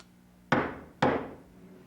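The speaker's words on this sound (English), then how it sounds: "There's someone at the door." Two firm knocks on a door, evenly spaced about half a second apart, each a sharp wooden thud with a short decaying ring, heard alone in a quiet room.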